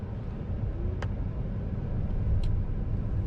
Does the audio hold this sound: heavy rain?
no